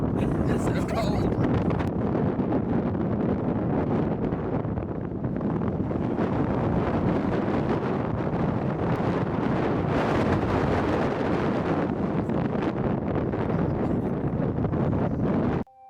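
Strong wind on the Salar de Uyuni salt flats in Bolivia buffets the microphone in heavy, roaring gusts that rumble continuously, with brief surges and lulls throughout.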